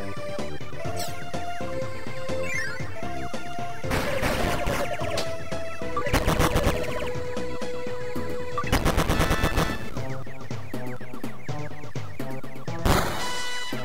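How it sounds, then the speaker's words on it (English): Rapid bursts of shooting from the Kirby Squeak Squad video game, loud and close, coming in several clustered volleys over layered game music and effects. "Shooting at me!"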